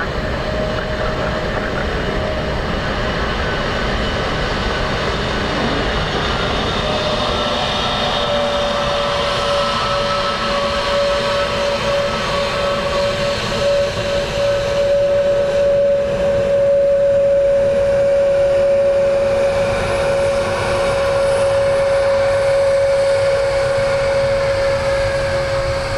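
An airliner on approach to runway 28 left at Dublin Airport gives a loud, sustained engine roar with a steady whine, broad and continuous throughout, swelling slightly toward the middle.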